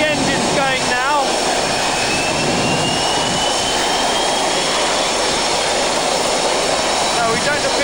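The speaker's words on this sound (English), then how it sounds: "3 engines going now." SRN4 hovercraft with three engines running, a loud, steady roaring whine with a rising turbine tone, heard up close throughout without pause.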